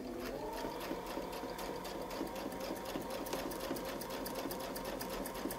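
A sewing machine with a template stitches a wreath design, running as a steady, fast mechanical whir with even rapid needle ticks throughout, close and alone.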